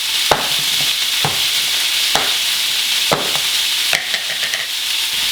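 Bite-sized chunks of sirloin beef for vegetable soup hit a hot pan and fry with a constant loud sizzle, broken by a few sharp scrapes and stirs, close up and without speech.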